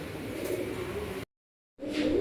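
Fancy-breed pigeons, pure-bloodline birds kept for sale, coo close by in low, throaty bursts, briefly interrupted by a short silence before the cooing resumes.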